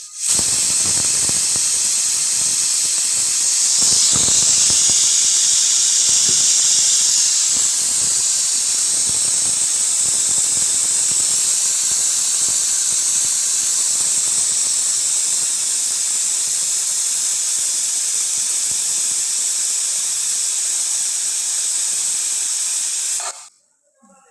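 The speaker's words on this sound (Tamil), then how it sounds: "இது வந்து ப்ரெஷர் போகட்டும் அப்புறமா ஓப்பன் பண்ணலாம்" A pressure cooker holding sambar rice releases its steam: one steady, loud, high hiss sustained for over twenty seconds, then cut off abruptly.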